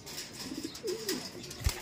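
Newly settled pigeons in a loft coo softly, with one short rolling coo in the middle and faint rustling and a couple of light knocks near the end.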